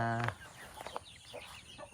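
Free-range chickens clucking and a rooster's short call outdoors, scattered soft clucks over quiet background noise.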